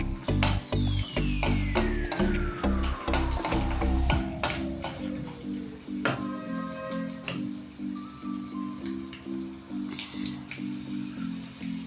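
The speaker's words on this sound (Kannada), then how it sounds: "ಸ್ವಲ್ಪ ಶೇಂಗಾ ಹಾಕ್ಕೊಡ್ರಿ ಈಗ ಅದನ್ನು ಸ್ವಲ್ಪ ಬ್ರೌನ್ ಕಲರ್ ಬರೋ ಅಷ್ಟು ಅದನ್ನ ಹುರ್ಕೊಳ್ರಿ" Peanuts and chana dal frying in oil in a pan until brown, with steady rhythmic scraping and clinking of a spoon against the pan over a light sizzle.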